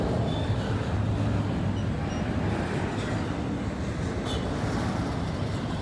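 A continuous low rumble of a train passing through a tunnel, steady and loud throughout, with faint rattling overtones and no speech.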